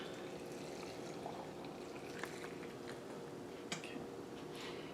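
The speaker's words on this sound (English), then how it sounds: "I'm going to get my tea kettle, and I'm going to pour hot water over these beans." Hot water from a tea kettle pours into a canning jar of green beans, a soft continuous splashing stream, faint and close with a light clink near the end.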